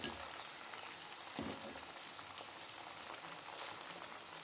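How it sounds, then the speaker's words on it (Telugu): Broad beans (chikkudukaya) fry steadily in a pan, a continuous soft crackling sizzle like light rain that holds fairly even throughout, close by with no talking. "ఇప్పుడు ఈ చిక్కుడుకాయలు మంచిగా వేగేదాకా ఉంచాలి."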